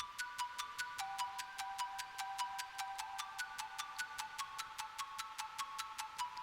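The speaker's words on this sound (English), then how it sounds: "And then I added an ARP, and it sounds like this." A plucky arpeggiated synth in FL Studio with a harsh high-pass filter removing the lows, playing a fast, even stream of short bright notes that step through a small pattern, fairly quiet and alone.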